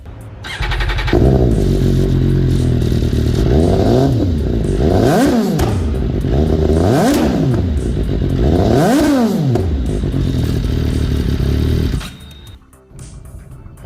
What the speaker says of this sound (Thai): เดี๋ยวฟังเสียงเครื่องกันดูนะครับ